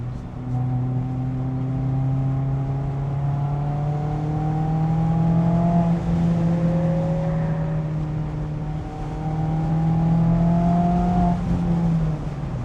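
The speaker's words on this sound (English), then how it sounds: "This car sounds so good. For just having a muffler," A Mazda Miata ND3 with a muffler-only exhaust drones steadily while driving, engine tone rising and falling gently through gear changes, heard from inside the car with no talking.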